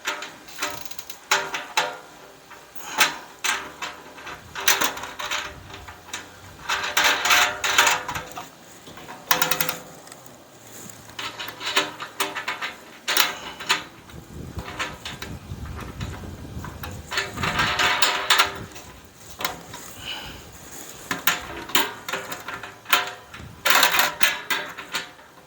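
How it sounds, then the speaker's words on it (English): Metal wing nuts and washers rattle and clack while being threaded onto a Hampton Bay outdoor gas patio heater during assembly, producing bursts of close metallic clicking and scraping with pauses between them and no talk. "Then we put our wing nuts on."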